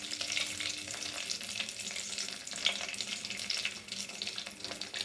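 Cashew nuts frying in hot oil for bagara rice, a steady close sizzle and crackle running throughout with occasional sharper pops and faint stirring, no talking.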